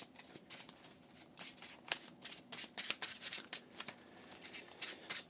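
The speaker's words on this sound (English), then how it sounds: "Shuffle that up." A deck of Marvel Champions card game cards being shuffled close up, giving quick riffling bursts and soft flicks in an irregular rhythm, with no voices.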